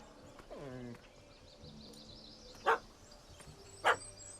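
A dog barks in the video game The Witcher 3 while chasing a cat up a tree: a whining, falling yelp, then two sharp, separate barks about a second apart over a soft ambient bed.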